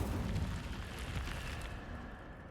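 An Incendio fire spell cast in Hogwarts Legacy lets out a dense, roaring burst of flame that is loud at the start and then slowly fades over a couple of seconds.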